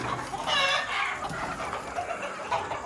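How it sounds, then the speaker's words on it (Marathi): Free-range country chickens clucking nearby in an evening coop, with a burst of overlapping clucks early on, then softer scattered calls over a low background. "हा संपूर्ण आपला गावठी पूर्ण गावरान जो पक्षी आपण म्हणतो तो पक्षी आपला आहे."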